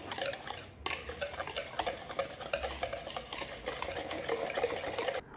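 Dry cornmeal, all-purpose flour and spice mix being stirred together in a bowl for a catfish coating, a busy close scraping and rustling with light clicks of the utensil, continuous and without speech.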